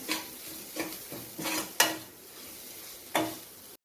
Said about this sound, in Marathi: मी मसाले छान मिक्स करून घेऊया घरगुती लाल तिखट अर्धा चमचा ॲड करते ते पण मिक्स करून घेऊया